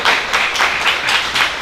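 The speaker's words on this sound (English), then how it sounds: "Can we give Indy a round of applause?" A theatre audience at a reentry film screening panel gives a warm round of applause, steady broadband clapping pulsing in waves for under two seconds, with no voices over it.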